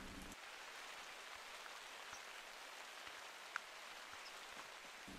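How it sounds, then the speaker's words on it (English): Steady rain falling in the hunting game theHunter: Call of the Wild, an even, dense hiss of fairly heavy rainfall with a few faint drips, no voices. "And the rain's getting a bit heavier."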